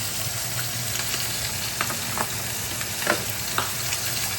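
French fries crackle and sizzle steadily in hot oil during their second fry, a close, even frying hiss with small popping bursts throughout.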